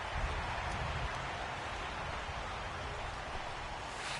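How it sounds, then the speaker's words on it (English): Steady, soft hiss of rain falling on a baseball field in the MLB 18 video game, an even wash of noise with no distinct drops standing out and no talk. "I don't know how much more rain this field can take"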